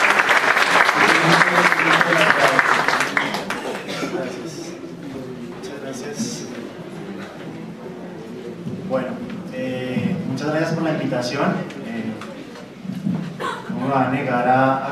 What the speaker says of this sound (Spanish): Un aplauso para el doctor John Freddy.